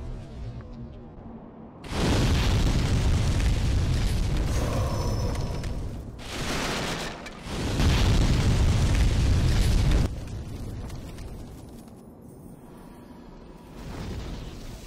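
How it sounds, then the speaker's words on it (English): The blue dragon in Demon's Souls, level 1-4, breathes fire in loud roaring bursts of rushing flame, one from about two to six seconds and another around eight to ten seconds, with quieter rumble between and after. "the dragon exerts fire from left to the right and then back to the left"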